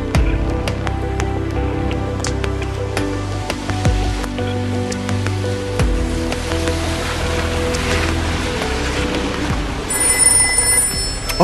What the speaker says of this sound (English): do you hear that? That's the clue phone.